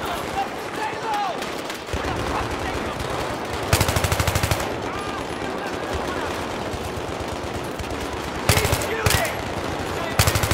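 Bursts of automatic gunfire from a Battlefield 3 firefight, loud and close, arriving in short rapid rattles against a dense battle din, with voices shouting over the action.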